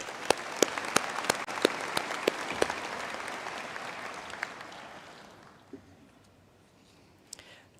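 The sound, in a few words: graduation audience applause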